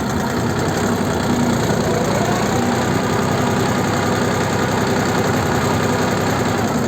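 A Kentavr walk-behind tractor engine runs in third gear while hilling potatoes, giving a loud, continuous, close-up chugging drone with a rough mechanical rattle that holds steady throughout.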